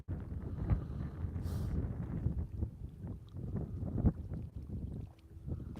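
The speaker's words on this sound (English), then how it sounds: "I got the wind blowing right in my face now" Wind gusting across an open lake while fishing on a freezing day, a steady low rumble buffeting the microphone with brief soft knocks and no voices.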